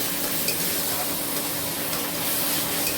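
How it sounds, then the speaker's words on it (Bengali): Tomato paste sizzles steadily in an oily frying pan while being stirred for a Nile tilapia fish curry, a continuous loud hiss with faint scraping. "দিয়ে দিচ্ছি টমেটো পেস্ট। এটাকেও ভালো করে নাড়িয়ে চালিয়ে নেব।"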